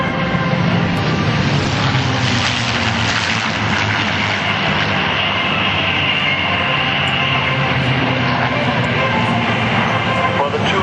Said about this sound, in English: the two aircraft pulling off to our right now are Jim Beasley leading in a magnificent Mustang called Twilight Tear